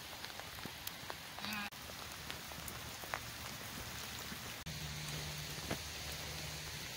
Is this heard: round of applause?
no